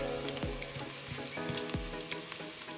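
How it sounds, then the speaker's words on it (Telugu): Garlic frying in a pan while burnt garlic noodles are prepared, a continuous close sizzle with small crackling pops scattered through, fairly quiet and without talk. "దీన్ని ఒక 10 సెకండ్స్ పాటు వేయిద్దాము గార్లిక్ని."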